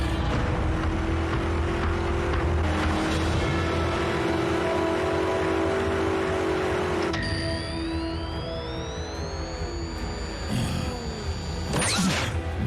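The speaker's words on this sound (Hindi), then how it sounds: "मैं इस इंजन की आवाज को अच्छी तरह पहचानता हूं।" A vehicle engine approaches in an animated Transformers scene, a loud steady drone that holds for several seconds and then gives way to rising, sweeping mechanical whines, with no talk.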